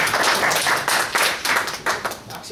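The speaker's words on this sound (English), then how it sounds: "Round of applause." Audience applause for a student team at a university ethics competition: a small crowd claps steadily up close in uneven bursts for a couple of seconds, with no voices over it.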